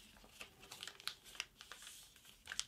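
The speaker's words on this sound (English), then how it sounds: "And fold in one more time on our existing creases." Crisp paper crinkles and soft creasing snaps as a sheet is folded along existing creases for a jet-style paper airplane, a quiet run of small irregular rustles close by.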